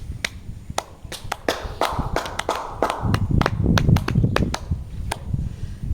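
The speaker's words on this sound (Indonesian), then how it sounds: "Kita berikan tepuk tangan dulu." A classroom group gives a short burst of applause, sharp individual claps spreading into a denser round of clapping, close and lively without speech.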